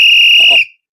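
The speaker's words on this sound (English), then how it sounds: "We're going to blow whistle for that one, too." A single loud referee whistle blast is heard close up, shrill and steady for just over half a second before cutting off abruptly.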